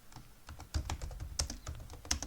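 Quick, light keystrokes tap on a computer keyboard while a username and email are entered in a Figma UI design, an irregular close run of soft clicks with no voices.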